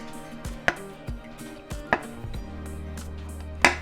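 A knife scoring the sugar topping of Mexican conchas, four sharp taps against a hard surface at uneven intervals, close and fairly clear, with soft handling noise between them and no voices.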